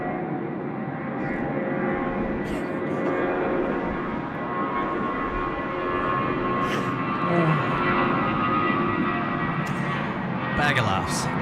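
A Jetstar airliner rolls for takeoff on runway 16 right at Sydney Airport, a sustained, moderately distant jet engine drone that rises slightly, with brief clicks and voices talking over it.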